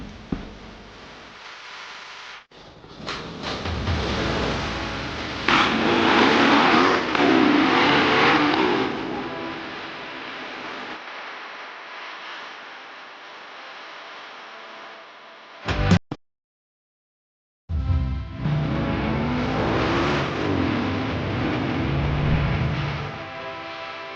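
A dirt bike engine revs hard and loud in bursts close by, dropping to a steadier drone, cutting out for a moment, then roaring back up again with no talk over it.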